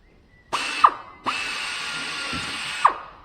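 A power drill drilling holes for blind rivets whirs through a couple of short bursts, spinning up sharply and winding down, close and loud with no talking.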